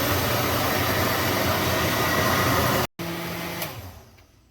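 A blender whirs steadily through an immune-boosting juice smoothie, a loud, even roar that briefly cuts out, resumes, then winds down and fades at the end.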